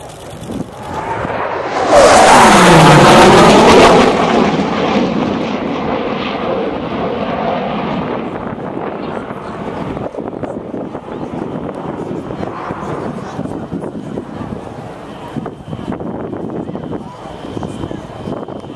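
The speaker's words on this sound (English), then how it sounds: "where the F18 is accelerating to nearly the speed of sound" An F-18 fighter jet making a high-speed flyby at an international air show: a loud, sudden roar surges in early, then fades into a long, rumbling, wind-buffeted engine wash.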